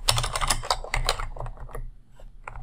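A computer keyboard is typed on at a quick, steady pace, a close run of light plastic key clicks that thins out into a few scattered taps near the end, with no talking.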